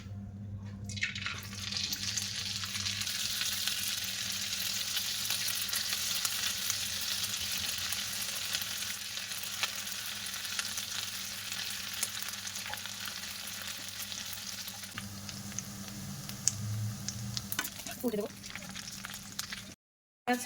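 Chanachur dough of semolina and potato piped into hot oil in a kadai, producing a steady loud hiss of frying that continues unbroken for most of the stretch and then thins out near the end.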